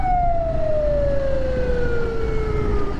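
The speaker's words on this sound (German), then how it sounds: "Die fahren jetzt ohne Abstand mit Sirene hinter mir." Police car siren on a road in Pakistan, wailing steadily and loud close behind, its pitch sliding slowly downward over a constant rumble of traffic and engine noise.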